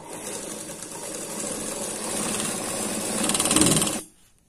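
A sewing machine stitching blouse fabric runs continuously for about four seconds, a fast even whirring clatter that builds slightly louder before stopping abruptly into quiet.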